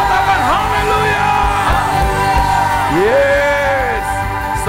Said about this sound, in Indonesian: berikan sorak-sorai yang terbaik, yang terdahsyat buat Tuhan. Teriakan haleluya.